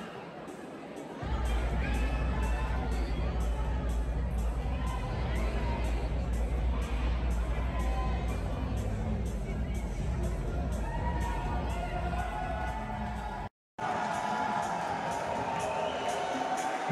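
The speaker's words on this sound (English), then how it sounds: "We'll leave you here with the sound of the arena for the official decision." A boxing arena crowd at an amateur championship bout waits for the official decision, a loud sustained roar of chatter and shouting that cuts out briefly near the end, then resumes.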